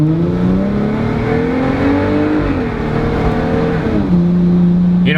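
A Jeep Wrangler JL fitted with an iDRIVE throttle controller accelerates hard, its engine note climbing loudly, dipping briefly at a shift, then rising again close by.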